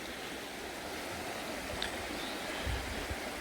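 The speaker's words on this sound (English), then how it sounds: "But that is technically a sort of natural runoff, the waterfall" A natural runoff waterfall at Glencorse Reservoir, partly man-made, pours in a steady, soft, continuous rush with no talking.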